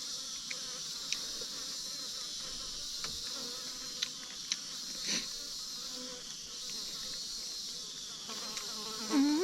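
Flies buzz faintly and steadily outdoors, small insect hums weaving over a quiet background with occasional soft clicks and no talking.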